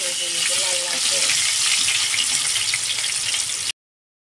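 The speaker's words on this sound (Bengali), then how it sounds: "আলুগুলো ভালো করে আমি ভেজে নেব লাল লাল করে।" Potatoes frying in hot oil for a Bengali chicken kosha meal, a loud, hissing, bubbling sizzle held close and constant before cutting off abruptly, with no voice over it.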